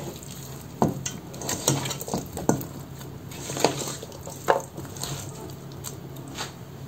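Fish pieces being worked into spices by hand in a bowl: soft wet squishing and mixing with occasional light clinks of a dish, steady and close, no talk.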